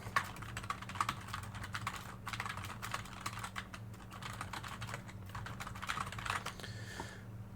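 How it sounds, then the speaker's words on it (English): Clacky computer keyboard typed on in quick, uneven bursts of sharp keystrokes, close and steady for several seconds over a low background hum. "that clackety keyboard that I have"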